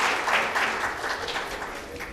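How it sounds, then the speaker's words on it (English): Alumni clap together for themselves at a college BBA department golden jubilee celebration, a steady, moderately loud patter of applause from a small group that runs throughout without pause. "So we clap by ourselves."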